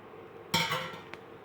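A metal lid lifted off a covered frying pan of egg and spinach, a single clear clink followed by a faint second tap.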